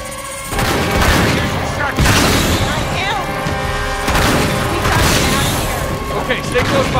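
Gunfire in the Uncharted video game aimed at a torch, with several loud, sharp booming shots at irregular intervals over a noisy backdrop of game effects and voices.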